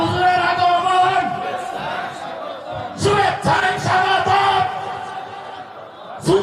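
A crowd at an Islamic religious gathering shouts takbir in loud, rhythmic group bursts, with a speaker's voice leading between the chants.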